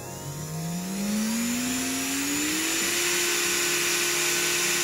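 Strong 210 electric nail file sander spun up to half speed, a loud steady high-pitched motor whine rising in pitch as it accelerates, then holding a constant tone close by.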